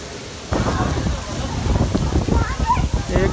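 Heavy rain pours at Faisal Masjid in Islamabad, a dense steady roar that swells and grows stronger partway through, with someone speaking over the downpour.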